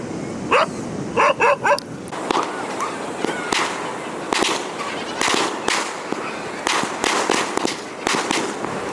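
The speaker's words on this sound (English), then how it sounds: "Crazy dogs" Dogs on Calangute Beach in Goa, India bark repeatedly, close and loud, in sharp clustered bursts spread across the stretch amid beach background noise.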